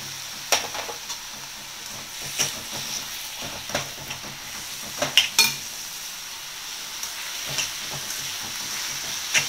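Onions sautéing in a pan with a pinch of rock salt, a soft steady sizzle broken by occasional sharper scrapes and stirring clicks, close and fairly quiet with no voices.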